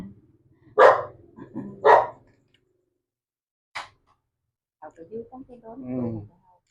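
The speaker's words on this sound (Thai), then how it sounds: "หมาก็เห่าไปน้องหมาเห่าคน" Dog barking outdoors, a few loud sharp barks in quick succession followed after a pause by one more bark, then people talk nearby.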